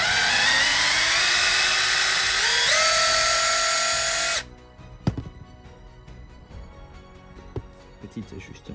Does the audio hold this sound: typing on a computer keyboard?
no